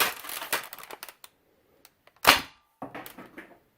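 A Nerf shotgun-style blaster loaded with worker darts fires in sharp, close bursts, a cluster of snaps at the start, then isolated pops with a loud crack midway and a final burst, separated by near silence.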